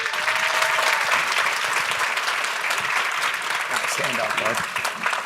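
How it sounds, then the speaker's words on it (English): Audience applause at the 2022 No Barriers Summit as a Paralympian is introduced: loud, continuous clapping from a large crowd, with someone speaking briefly over it near the end. "Let's give another round of applause"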